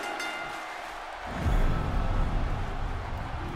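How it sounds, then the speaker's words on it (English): A dense, steady roar from an arena crowd in the WWE 2K16 wrestling video game swells louder partway through and continues as a loud, unbroken wash with no voices standing out. "The crowd chanting, this is awesome."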